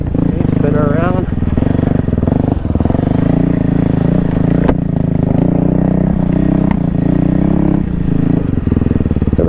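A 2024 Kawasaki KLX300R dirt bike engine idles and putters up close while the bike is turned around on a trail, a steady low throb with small throttle blips and occasional clatter.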